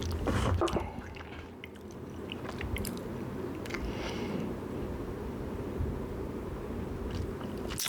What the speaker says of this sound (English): So let's try one more sip.